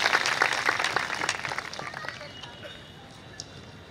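A seated congregation at a satsang gathering in Jalgaon claps together, a loud burst of many hands that gradually fades out over a few seconds, with faint voices underneath.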